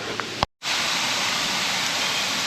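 Waterfall on the Hassen Creek Nature Trail near Allentown, Pennsylvania, a loud, steady broadband rush of falling water heard up close, with a brief dropout near the start.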